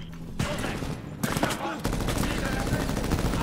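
Dense volleys of gunfire from the Medal of Honor (2010) video game, loud and continuous, with rapid overlapping shots and bursts that swell after a brief lull and keep rattling to the end.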